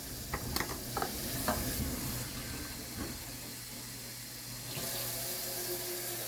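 Warm water runs steadily from a kitchen tap into a bowl, with a constant rushing hiss and a few small clinks and taps early on.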